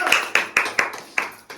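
Hands clap in about seven sharp, evenly spaced bursts, close and fairly loud, with no talking, as people celebrate New Year's 2025 while holding a cake.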